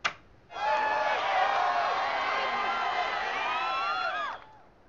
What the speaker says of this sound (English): I love the cheering.